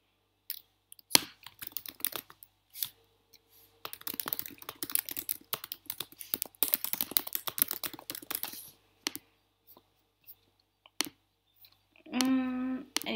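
Typing on a computer keyboard, a close run of quick irregular key clicks with short pauses between bursts, then a few isolated clicks and a brief tonal blip near the end.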